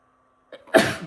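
A single sharp sneeze up close, preceded by a brief intake of breath, bursting out of near silence.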